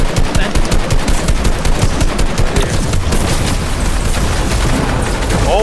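Rapid automatic gunfire in the Fortnite video game, loud and dense, with bursts of shots rattling continuously through the whole stretch and booming impacts underneath.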